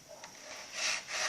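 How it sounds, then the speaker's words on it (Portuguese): 220-grit white sandpaper rubbing over MDF wood while rounding an edge of a miniature truck trailer, a close raspy scraping in quick back-and-forth strokes that grows louder toward the end. "eu vou lixando assim, fazendo esse arredondamento"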